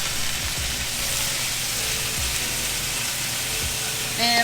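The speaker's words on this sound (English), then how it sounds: "Put them in the pan." Jackfruit pieces frying in hot oil in a pan give a steady, broadband sizzle that stays fairly loud throughout, with a few soft pops and a slight swell near the end.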